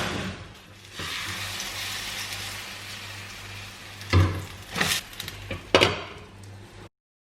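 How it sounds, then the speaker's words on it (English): Egg whites cook in a kitchen pan with a constant close sizzle, broken near the end by a few louder scraping bursts before everything cuts to silence. "For the second time, I'm gonna go with egg whites. At this time, I'm gonna go ahead and cook them"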